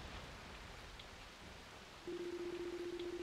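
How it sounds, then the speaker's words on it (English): Steady rain falls at night in the video game Ys IV: Memories of Celceta, a soft continuous hiss joined partway through by a low sustained tone. "Only the sound of the falling rain and constant thunderclaps could be heard echoing through the darkness."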